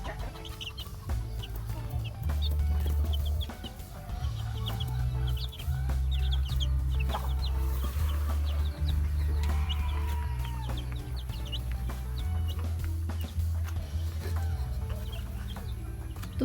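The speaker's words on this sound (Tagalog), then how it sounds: "Ito po yung pinakauna-una naming mga sisiw na na-hatch" Heritage chickens and day-old chicks on a free range farm, clucking and peeping close by over a steady low rumble, with scattered calls throughout.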